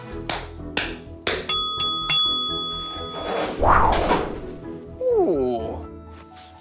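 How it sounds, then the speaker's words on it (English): Three sharp hand claps in a row, followed by bright bell-like chimes ringing out, then voices talking. "clap 3 times"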